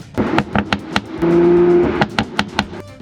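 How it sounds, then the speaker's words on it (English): Exhaust from a tuned 500 hp Mercedes-Benz C43 AMG with a twin-turbo V6, crackling and popping in a rapid burbling series of sharp bursts, with a brief steady drone in the middle, heard close and alone. "probably the exhaust that's going off and burbling like crazy. It sounds like a popcorn machine back there."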